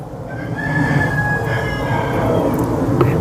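A rooster crows in the distance over a busy outdoor background of steady ambient noise; no one speaks.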